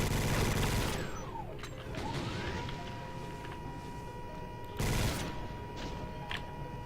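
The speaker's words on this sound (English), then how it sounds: "it's fun to just let loose with the chain gun, well, minigun, once in a while" A minigun in the Doom-style game Complex TNT Revilution fires loud, sustained bursts of rapid gunfire with a heavy opening blast. The shooting trails off into mechanical whirring before another sharp burst near the end.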